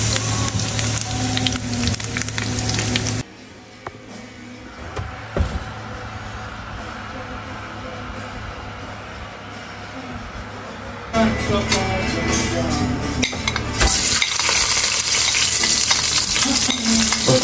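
Onions, a large amount of them, sauté in a hot pan at home, giving a loud, steady sizzle and frying hiss with stirring scrapes that drops away for several seconds and then returns strongly.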